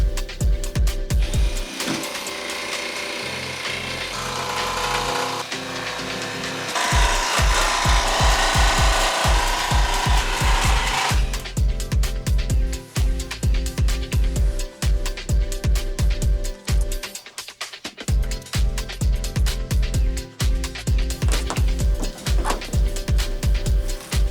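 A power tool cuts an opening in the metal roof of a rusty work van being converted into a camper, for a Maxxair roof fan. The cutting is loud and close, with rapid rattling strokes, pausing briefly and then resuming in steady bursts.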